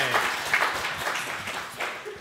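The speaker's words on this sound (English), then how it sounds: "Clapping's always good." A symposium audience claps, the scattered applause fading under a voice that speaks over the tail of it.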